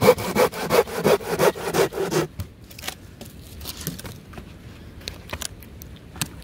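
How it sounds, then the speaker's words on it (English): A compact Silky Gomboy folding saw cuts timber outdoors with a quick rhythmic series of close rasping strokes, which then stop, leaving faint scattered knocks and rustles. "It's a great little saw. It's compact, it's light, it cuts what you need"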